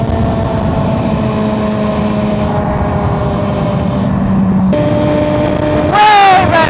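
Motorcycle engine revving hard toward 10,000 RPM on a first ride, heard from inside a KYT KX1 race helmet, a steady loud drone that climbs sharply in pitch near the end amid wind noise.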